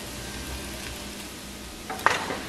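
Boiled potatoes frying in a pan, a soft steady sizzle with a few light scraping stirs near the end, no talking.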